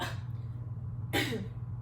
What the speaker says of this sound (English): And now do a cough for me.